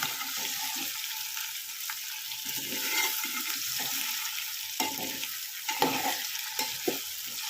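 Potato pieces and drumstick pods sauté in hot oil with a soft, continuous sizzle, broken by occasional spatula scrapes and taps as they are stirred. It is fairly quiet and there is no talking.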